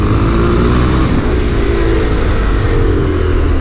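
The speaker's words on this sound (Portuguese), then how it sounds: "Eu nem tô andando com a moto, cara, e a moto tá dando BO" A motorcycle engine runs steadily while standing still, its low broadband rumble close and loud throughout with a slightly rough, uneven texture suggesting a fault.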